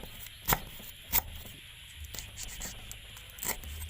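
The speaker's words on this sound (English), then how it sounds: "Lemongrass, we cut it like this too." A knife cuts through lemongrass stalks on a board, giving a few sharp, close chops spaced irregularly over a quiet background, with soft scraping in between.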